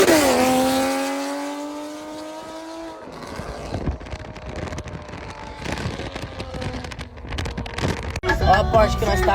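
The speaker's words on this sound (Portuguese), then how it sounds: "Mano, esse carro é muito barulhento." A loud Porsche with a manual gearbox revs and drives off, the engine note climbing steadily then breaking into rough, gravelly acceleration with bursts near the end; someone talks over the noise.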